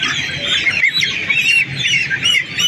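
Chickens squawk and cluck loudly and continuously while being held for a fowl pox vaccination, with shrill, agitated cries rising and falling close by.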